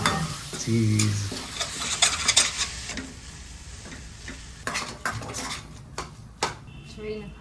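Sandwich stuffing is stirred in a sizzling pan, with a spoon scraping and clinking against the metal in bursts over frying sizzle, while people talk nearby.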